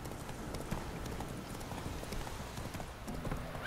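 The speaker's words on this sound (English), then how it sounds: "Why is my horse always going the wrong way?" Horse hooves galloping in The Witcher 3 give a steady, fairly quiet clip-clop rhythm that runs continuously over a busy game soundscape, with no one talking.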